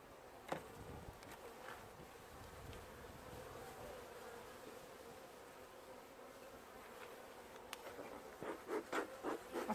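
Honeybees hum in a soft, continuous buzz around an open beehive, fairly faint and steady throughout, with a few small scratches and taps over the drone.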